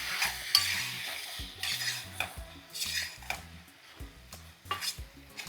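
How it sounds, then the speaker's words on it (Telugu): Chicken browning in a pan with coriander powder and garam masala is stirred with a utensil, giving repeated scraping and clinking strokes over a soft sizzle, close and steady, with no talk. "చికెన్ కాస్త వేగుతూ ఉన్నప్పుడే ఇందులో కొద్దిగా ధనియాల పొడి, కాస్త గరం మసాలా వేసుకున్నాం. వేసి ఒక్కసారి మిక్స్ చేద్దాం."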